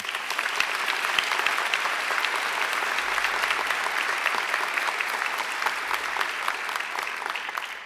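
A graduation ceremony audience gives a sustained, dense round of applause that holds steady and loud throughout, with no pauses.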